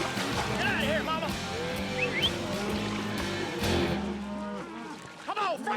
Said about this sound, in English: I said get the cow in the pond.